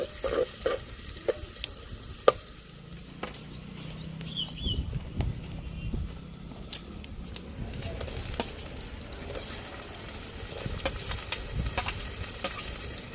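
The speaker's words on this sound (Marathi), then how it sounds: "कांदे टाकून घेऊ, कांदा जरा गरम करून घेऊ, मस्त की परतून घेऊ" Onions sautéing in hot oil in a pan for a fish curry, a soft steady sizzle under irregular scraping and clacking as a utensil stirs them, fairly faint and without voices.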